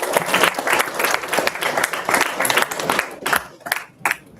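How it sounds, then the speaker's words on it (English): A big round of applause from a live session audience, dense and continuous, with a few scattered louder claps as it thins toward the end. "Just a big round of applause."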